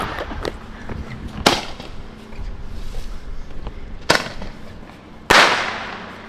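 Fireworks and firecrackers go off outdoors: three sharp, loud bangs at uneven intervals, the last trailing into crackling, over a steady rumble of background noise and a few faint smaller pops.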